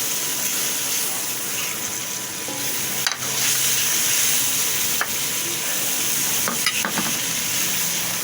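Shrimp stirred into pinakbet vegetables frying in a pan, a continuous sizzle with scraping and clacking of a utensil against the pan at irregular moments, fairly close and loud.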